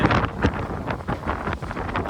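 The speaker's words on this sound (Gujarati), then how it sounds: "બહુ પવન આવ્યો બહુ." Strong windstorm wind in Ahmedabad buffets the microphone in rough, uneven gusts, loud and close, with no voices.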